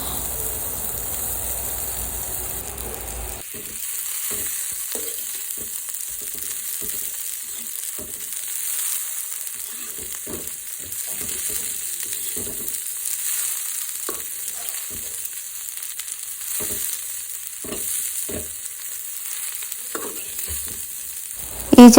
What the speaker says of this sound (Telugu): ఇలా పక్కకు తీసేసుకుని ఆయిల్లోనే ఇంకా చించిగురు వేయించుకోవాలి.